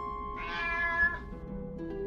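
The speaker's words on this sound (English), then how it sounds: "I'm shocked to find out that the focus of all this praise is nothing more than a common house cat." A common house cat gives one clear, drawn-out meow near the middle, moderately loud against a quiet, humming background.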